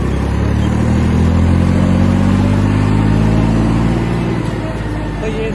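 A turbocharged tractor on 16-inch rear and 7.50 front tires pulls steadily toward top speed, its engine a loud, continuous droning roar with a rising pitch and wind rumble throughout.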